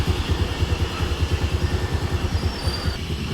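A Honda Activa BS4 scooter engine idles steadily nearby, with a low, even, rapid pulsing throughout and no voices over it.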